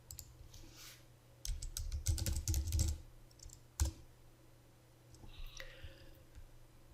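Computer keyboard keys tapped in a quick burst while a folder name is entered on a Windows server, close and fairly quiet, followed by a lone louder keystroke and a few scattered clicks.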